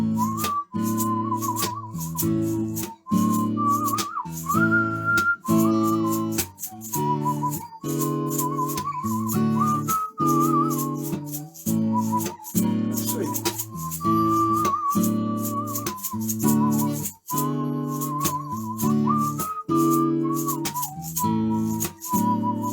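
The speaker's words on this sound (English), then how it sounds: "Why don't you whistle a little love song for us" A person whistles a love song live at the Rainbow Room, a clear melodic whistle carrying the tune over a continuous instrumental backing throughout.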